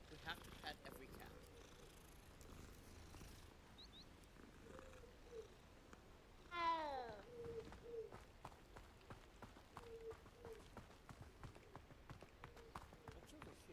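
A cat in a magic-themed video game purrs softly and steadily while being petted and gives one brief meow, with a person talking quietly over the game.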